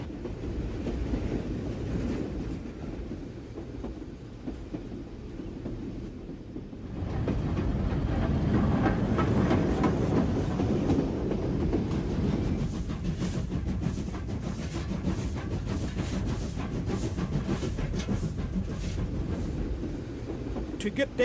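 An old steam train on the Zig Zag Railway in the Blue Mountains rumbles along with steady clickety-clack, growing louder and fuller partway through, with wind buffeting the microphone.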